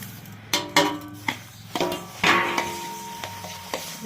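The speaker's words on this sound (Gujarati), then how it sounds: "આ તલ બધા એમાં સરસ મિક્સ કરીએ" Sesame seeds are stirred into hot jaggery syrup in a metal pan, with a utensil scraping and clinking against the pan in irregular taps and scrapes, close and moderately loud, with no talk.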